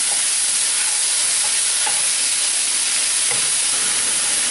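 Onions and chili paste sizzle loudly and continuously while frying in a pan for a dry chili mushroom dish, a broad hiss with faint crackles in it.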